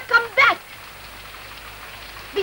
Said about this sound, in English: Besides, it's pouring with rain.